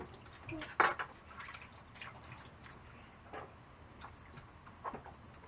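Produce being rinsed in a kitchen sink filled with vinegar and water: scattered clinks of dishes, light drips and splashes, fairly quiet and sparse, without talk.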